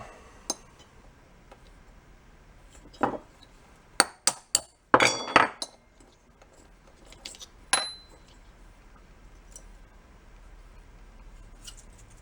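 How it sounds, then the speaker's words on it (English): A float pin being tapped out of the carburetor on a 1943 Briggs & Stratton model ZZ engine, with sharp metallic clinks and taps coming in small clusters over a quiet background. "when we tap that pin out, we'll get the float off"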